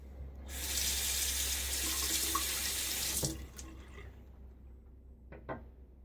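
Tap water runs into a sink for a rinse after a wet shave, a steady close splashing hiss for about three seconds that then shuts off, leaving a few faint drips and small handling knocks.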